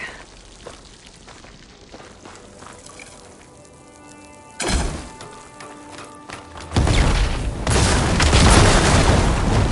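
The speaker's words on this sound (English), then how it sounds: "Hitting those blaze barrels with fire ammo should do the trick" Fire-ammo strikes set off blaze barrels in a video game: a sharp, loud boom bursts out midway, then a second, bigger roaring blast swells and keeps rumbling densely to the end.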